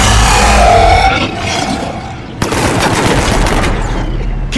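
Gunfire in the shooter Mass Effect 3 Legendary Edition during a battle on Earth, with a loud burst of rapid shots followed by a sharp, sustained rattle of automatic fire close by.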